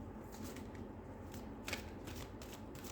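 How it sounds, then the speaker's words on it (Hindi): Tarot cards being shuffled and drawn by hand, a soft continuous riffling with brief sharper flicks, close and quiet with no talking. "इसमें से एक कार्ड निकालना बाकी है"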